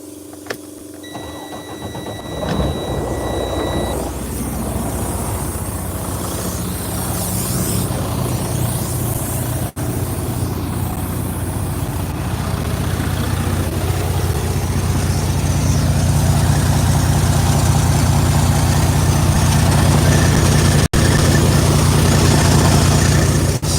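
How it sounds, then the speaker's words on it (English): A Detroit DD13 diesel truck engine with a bad DPF filter idles steadily for a long stretch, a low, even rumble that grows slightly louder over time, with no talking. "Sound like a diesel now."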